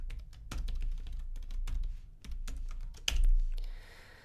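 Keys tapped on a computer keyboard while entering a password in a Linux terminal during a Love2D install: a rapid run of close, crisp clicks with uneven rhythm, no talking.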